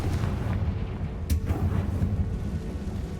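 A Confringo fire spell blast in the Hogwarts Legacy video game, one sharp burst near the middle over a low, rumbling background.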